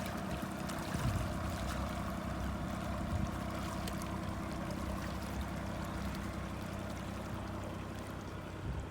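A tiller-steered outboard boat motor runs steadily while heading upstream, a continuous low droning hum over water noise that holds constant and close for the whole stretch, with no talk.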